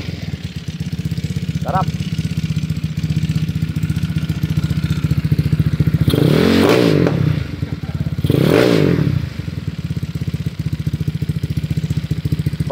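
A 212cc motorcycle engine idles with a clattering rumble, then roars through two loud rev bursts close by, and a voice speaks briefly.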